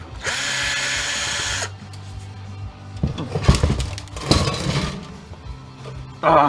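Power drill backing screws out of a Baumfolder gate being scrapped for metal: a long steady whir, a pause, then shorter irregular bursts with clicks and rattles, ending in another brief spin-up.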